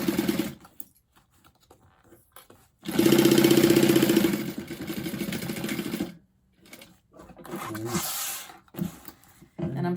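A sewing machine runs in short bursts while back stitching a fabric key fob on a bag, with one longer steady run in the middle and brief pauses between stops and starts, close and moderately loud.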